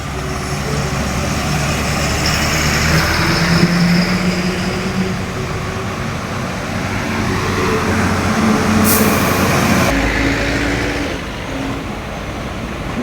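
Heavy sugarcane lorries rumble past on a road through dense forest, a loud continuous engine drone that swells and fades with a brief hiss partway through.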